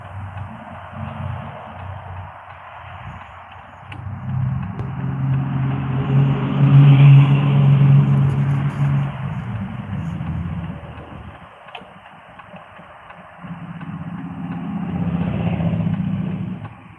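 Cars drive off a highway exit ramp as a continuous traffic rumble, with engine noise rising and falling as vehicles pass and a steady low drone throughout.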